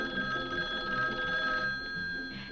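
An old kitchen telephone bell in a 1950s home rings steadily and fairly loud with a bright metallic tone for the whole stretch, alone with no talk.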